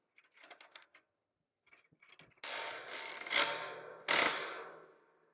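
Tightening bolts on a dual automatic gate opener bracket: a few light metallic clicks, then a loud ratcheting wrench cranking in two long bursts close by, with no talking.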